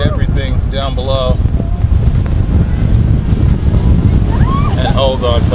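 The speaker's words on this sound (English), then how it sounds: "It is windy as hell" Strong, steady wind roars and buffets the microphone throughout on Pinnacle Peak in the Grampians, with a person talking briefly near the start and end over the gusts.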